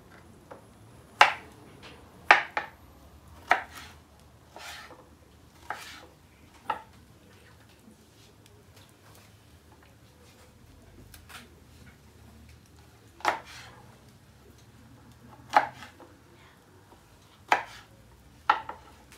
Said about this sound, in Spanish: Ahora voy a picar la fruta en pedazos grandes para que no se deshaga.